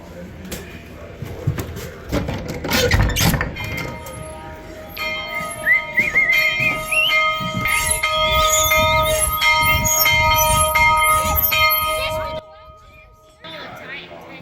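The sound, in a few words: fire hall alarm bell ringing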